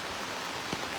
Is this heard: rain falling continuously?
yes